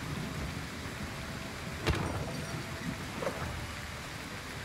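Steady rain hisses through a storm in the video game Wartales, with a sharp distant thunder crack near the middle and a fainter rumble later, continuous and without voices.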